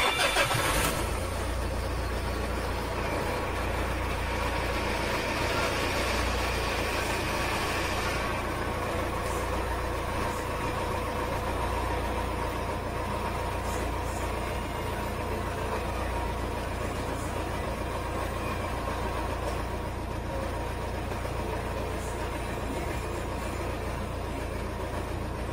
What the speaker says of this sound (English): Run the engine in an idle for about 30 seconds.